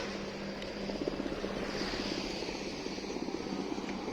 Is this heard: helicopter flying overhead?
yes